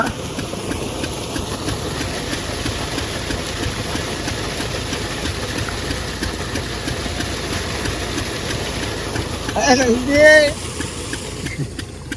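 A tractor engine runs steadily at a low, even idle, with people talking over it and a brief louder surge near the end.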